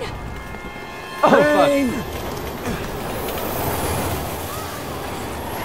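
A train rushes past in the video game Resident Evil 6, a sudden loud burst of metallic screeching and rumble that then settles into a steady roar, with a man swearing over it.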